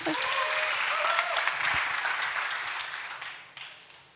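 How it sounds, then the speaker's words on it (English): An audience at an innovation opening ceremony claps in a full burst of applause that swells, then thins and fades near the end, with a brief voice heard at the start. "Round of applause, guys."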